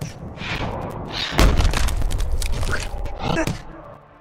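In Fight Night Round 4, a heavy crunching counterpunch lands as a deep thud amid ongoing game noise, with smaller impacts around it.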